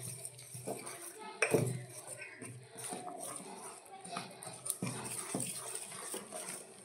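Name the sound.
mixing milk into batter in a bowl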